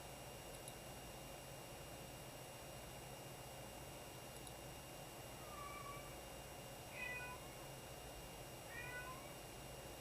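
A pet cat meows three times, faint and somewhat distant, each cry short and rising, over a steady background hiss like a fan.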